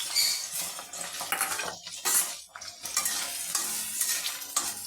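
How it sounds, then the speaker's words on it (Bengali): Chili and onion fry in hot mustard oil with a loud, busy sizzle as a spoon scrapes and turns them continuously, sputters and clatters rising and falling close by. "এখানে আছে আমার লঙ্কা পেঁয়াজটা আমি লাল করে নেব।"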